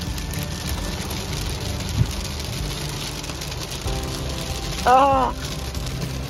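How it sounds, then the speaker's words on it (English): Hail patters steadily onto the ground in a snowy Montana mountain setting near Glacier National Park, a dense rain-like hiss that runs throughout, with a short exclaimed voice cutting in partway through. "The ground looks like it's covered in snow. It's hail."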